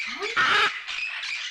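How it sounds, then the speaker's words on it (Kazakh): A yellow parrot gives a short rising call, then a loud harsh squawk, followed by softer raspy squawks, close and clear against a quiet background. "О, бұл тотықұс. Иә. Сары тотықұс."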